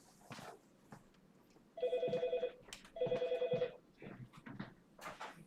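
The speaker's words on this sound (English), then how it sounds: "phone doesn't ring too often. It's weird." A telephone rings in a room, two loud electronic trilling rings separated by a short pause, with quiet background noise between them.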